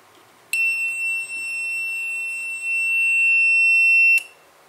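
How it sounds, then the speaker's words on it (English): An electronic buzzer switched by a Bluetooth relay module sounds one continuous high-pitched tone for several seconds, then cuts off abruptly, with near silence before and after. "after I press the button, it activates the buzzer."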